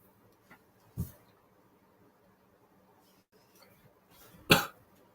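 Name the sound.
cough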